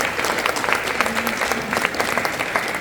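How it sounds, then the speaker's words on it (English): An audience gives a round of steady applause at a press event introducing Iona's new women's basketball coach, the dense clapping sustained and fairly loud throughout. "How about a round of applause for Dr."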